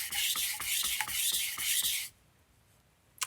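Japanese kitchen knife drawn back and forth across a whetstone in about eight quick, steady rasping strokes, close and loud, then stopping into near silence with a small knock at the end.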